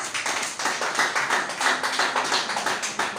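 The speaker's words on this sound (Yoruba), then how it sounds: "Pàtẹ́wọ́ fún Jésù. Clap Jesus." A church congregation claps for Jesus, a dense, fast rhythmic burst of many hands clapping in steady pulses, loud and close with no talking.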